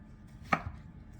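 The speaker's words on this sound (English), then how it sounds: "Now we're gonna slice them about a 1/2 inch" A knife cuts through zucchini or yellow squash in one crisp slice, finishing with a soft thunk on the board. It comes close up in a quiet room with no voices.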